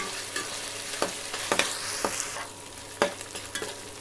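Ginger and garlic stirred and fried in a pan for a crab semi-gravy, a steady sizzle broken by several sharp scraping clanks of the spoon against the metal, close and alone.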